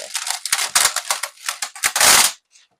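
Baking paper is cut and torn for a cookie bar pan, giving a run of sharp, crinkly rips and snips close up, ending in one longer tearing rush; brief talk sits at the edges.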